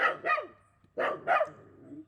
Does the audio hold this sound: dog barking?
yes